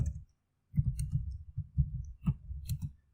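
Keyboard typing into a Microsoft Word text box, with bursts of soft close clicks in an irregular rhythm separated by short pauses.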